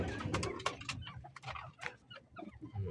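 Pigeons kept as flyers coo softly, with repeated low murmuring calls and a few brief flutters and knocks, faint and close in a quiet loft, and no talk.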